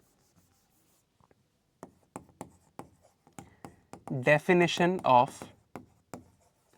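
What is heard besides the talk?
writing on a board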